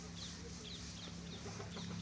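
Young hens on a poultry farm peck feed from the ground, giving soft repeated clucks and chirps over a steady low hum of background noise, with no one speaking.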